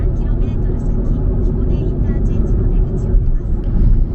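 Car cruising along a Japanese expressway toward the Taga Service Area in Shiga: a steady, loud low engine and road rumble throughout, with a person talking over the drone.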